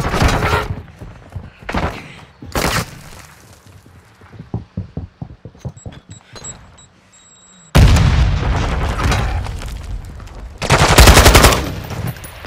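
Gunfire and a bomb strike in Call of Duty: Modern Warfare 2 during a ranked match, with loud rapid gun bursts, a run of sharp single shots, then a heavy explosive roar and more dense firing.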